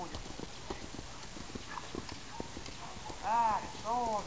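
A horse's hooves clip-clop at a steady pace on the ground during a lungeing session, fairly close, with someone speaking softly over them and a brief whinny-like tonal sound near the end.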